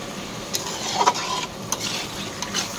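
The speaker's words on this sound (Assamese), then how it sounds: "মাংসখিনি ইতিমধ্যে সুন্দৰকৈ ভাজি ললো" Meat sizzles in a hot pan, a large two-kilogram batch, with occasional scraping and stirring clinks, steady crackle throughout, close by.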